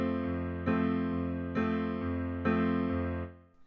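Piano chords struck in a slow, steady rock pattern, four sustained chords ringing with bass notes beneath, then fading out at the end.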